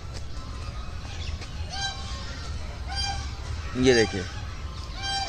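Ducks call from a pond in Lodhi Garden, Delhi. A few scattered honking quacks rise to a louder cluster midway, under a man's speech and soft outdoor background noise.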